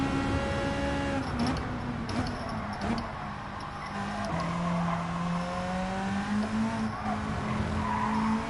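A race car on cold, hard tyres in Gran Turismo 7 skids and squeals continuously, its wavering tyre whine riding over a steady engine drone.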